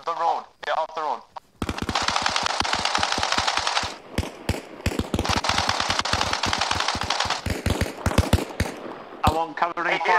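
Rapid bursts of automatic gunfire in the military shooter Arma Reforger, sharp repeated shots crackling loudly for several seconds with brief pauses, while voices talk before and after the firing.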